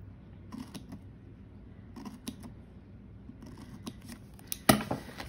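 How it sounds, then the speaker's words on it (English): Scissors snip measurement mark lines into the pages of a book for a book-folding project, giving a few quiet scattered cuts with a sharper, louder snip near the end, heard close up with no talking. "you're going to cut each one of your measurement mark lines."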